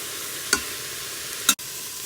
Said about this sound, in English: my pork chops will be pretty much cooked all the way by the time I get done sauteing